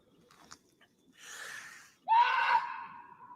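A man imitates a Bigfoot scream during a nighttime search in Kentucky woods: a faint breathy rasp builds, then a loud, strained, wavering howl sustains and trails off in the quiet forest.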